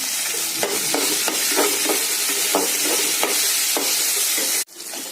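Garlic sizzles steadily in hot oil with salt and turmeric, a dense continuous frying hiss broken by regular scraping stirs of a spatula, then cut off abruptly near the end.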